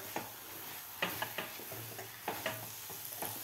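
A mango and semolina filling with cardamom is stirred in a pan, a quiet run of light scrapes and taps in an uneven rhythm over a faint sizzle.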